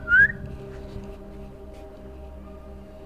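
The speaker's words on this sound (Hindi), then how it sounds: "ये तूने मुझे देख के सीटी बजाई?" A single short, bright whistle close by at the very start, rising briefly and then fading into quiet room tone in an indoor dramatic scene.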